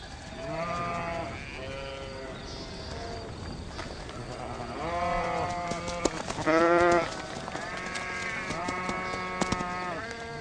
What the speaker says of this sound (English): An unguarded flock of sheep is defenseless.